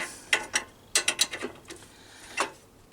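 A wrench loosens a 17 mm nut on a Lister D universal grinder, giving a series of close, sharp ratcheting clicks in short bursts, with several quick clicks in a cluster and a final click after a pause.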